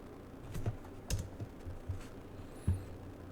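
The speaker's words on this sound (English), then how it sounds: "Make sure you press your keyboard enter." Typing on a computer keyboard while setting up a Linux virtual machine on Windows 11, a few sparse, separate key presses and clacks, close and quiet, with no talking.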